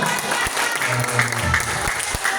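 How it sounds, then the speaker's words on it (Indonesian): A room of people claps steadily in dense, continuous applause, moderately loud, with faint voices mixed in beneath the clapping. "Masya Allah, tepuk tangan dong."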